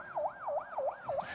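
A voice imitates a police siren, four even rising-and-falling wails in a steady rhythm, close and clear with no other talk.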